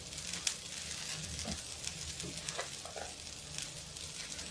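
Okra fries in an iron kadai with a continuous loud sizzle, broken by soft scraping as it is stirred. No voices.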